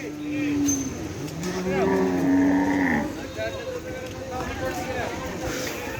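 Cattle at a crowded market ahead of the Qurbani sacrifice, with a cow giving a long drawn-out moo and another lower bellow, mixed with people talking in the busy background.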